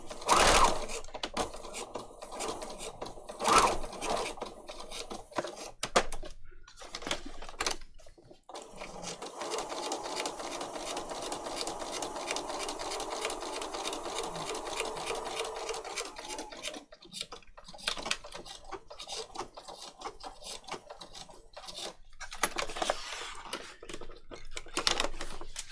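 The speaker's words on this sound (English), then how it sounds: "I've decided to give you a sewing demo with a machine that doesn't really" A faulty sewing machine stitches a paper patchwork, giving a fast, loud mechanical chatter with a steady run in the middle and bursts of clacking before and after.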